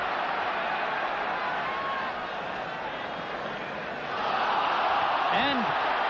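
Rugby stadium crowd at a Wallabies v Wales match in 1984 sends up a broad, steady roar of reaction, swelling louder toward the end, heard from a distance and dense throughout.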